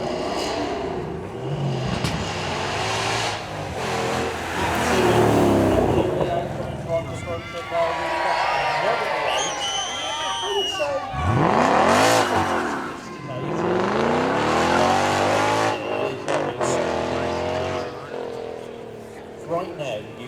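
Supercar launching hard from a start line at the Beaulieu Supercar Weekend demo on fresh rear tyres, with the engine revving up and tyres squealing in repeated loud surges, while a commentator talks over it.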